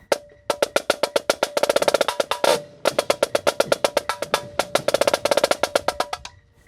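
Solo marching snare drum playing the 2018 Vandegrift drumline break, with rapid crisp strokes in rolling triplet phrases, accented bursts and a brief buzz roll, close and loud with short gaps between figures.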